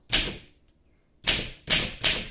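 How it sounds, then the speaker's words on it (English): A 1959 Olympia SM3 manual typewriter is typed on, giving sharp, loud key strikes: one clack, a pause of about a second, then three quick clacks in a row, each with a brief ringing decay. "let's go ahead and do some typing"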